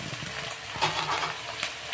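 Onion paste sizzling and being stirred in hot oil in a pan for a Bengali katla fish yoghurt curry, a steady close fry with soft scraping stir noises.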